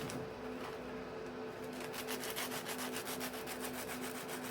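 Extremely crispy food is handled beside a Blackstone 2-in-1 pizza oven combo, giving a close, dry crackling rustle that builds into a denser scratchy patter while a steady hum runs underneath.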